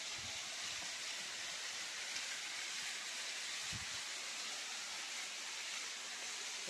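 Water falls at the waterfall at the Shabari Kolla shrine, a faint, steady hiss of broadband rush that continues without break.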